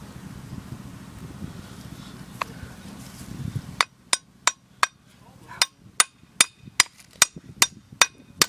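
Crowbar beating on a race mower's drilled-out shaft while fitting a 2-inch pulley: about a dozen sharp metallic strikes in a steady rhythm, loud and close, after a stretch of wind and low background noise.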